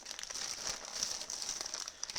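Plastic bag packaging from an Amazon delivery crinkles and crumples continuously at close range, a dense, bright rustle with no talking.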